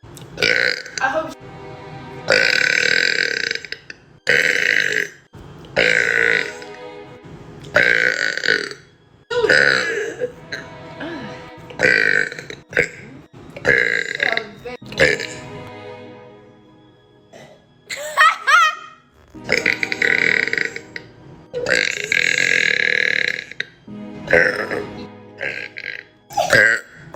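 Girls burping one after another in a long string of loud, close belches of varying length and pitch, separated by brief pauses, with occasional laughter and bits of talk between them.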